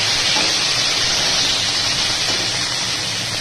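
Ginger paste fries in a hot pan while being stirred, heard as a loud, steady sizzling hiss that holds even and unbroken throughout.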